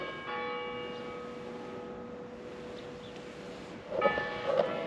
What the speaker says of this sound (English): oh, the bells are going off